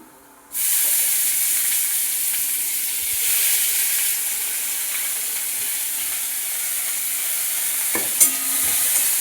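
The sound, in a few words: frying cabbage with garlic in a pan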